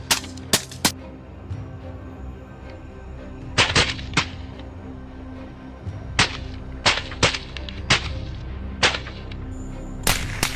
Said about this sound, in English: A volley of gunfire followed